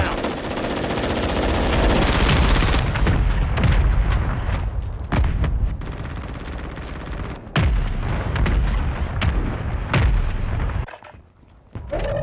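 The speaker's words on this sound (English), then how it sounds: "Mortar strike." Mortar strike explosions in Call of Duty, loud dense booms and rapid gunfire crackling close and continuous, with a few sharp blasts and a brief lull near the end.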